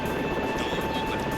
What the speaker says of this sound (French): On va tourner un peu l'hélico.